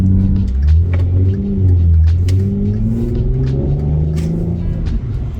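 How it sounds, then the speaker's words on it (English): A used car with several dents, heard from inside on a test drive, gives a loud, close engine drone that rises and falls as it accelerates and shifts, with rumbling road noise beneath. "right now we are taking it on a test drive"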